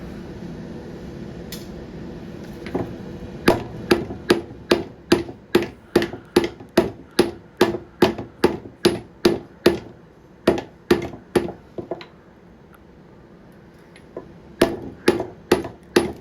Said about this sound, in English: he is carefully beating this down with hammer and then removing the gold layer